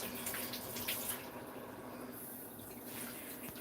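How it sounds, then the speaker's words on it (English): Hot water runs steadily from a tap over a hand in a kitchen sink, a continuous close splashing hiss that holds at a constant level throughout, with no talk. "Run some hot water on my hand."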